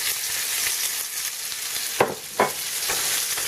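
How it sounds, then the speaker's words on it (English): Ostrich steak coated in spices sears in a hot pan, a dense steady sizzle with two brief louder bursts as the meat is moved, close and free of speech. "And again, move it around the pan, making sure to get everything coated."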